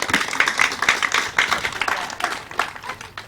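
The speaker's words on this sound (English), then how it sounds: "So would you give a round of applause for our Kahu today, Nani Hill?" A small crowd at an opening ceremony claps for a kahu, or pastor, with individual claps audible as a loose, uneven patter that swells and fades over a few seconds.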